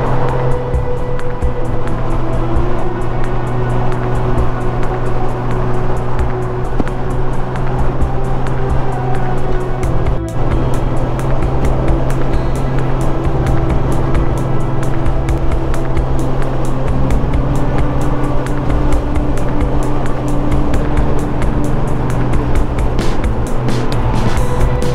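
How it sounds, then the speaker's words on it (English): Rush hour road traffic in Salt Lake City makes a dense, continuous, loud roar of engines and tires that holds steady throughout with no talk. "Rush hour traffic, Salt Lake City."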